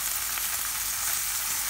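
Crushed garlic and black pepper fry in a hot pan, giving a steady, close, bright sizzle that holds evenly from start to finish without any talking.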